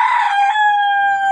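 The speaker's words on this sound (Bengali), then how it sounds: "আবার পাশে মুরগি খাঁচা আছে, মুরগি পালে।" A chicken in a coop beside a rooftop garden crows once, loud and close, with a long drawn-out harmonic tail and no other sounds.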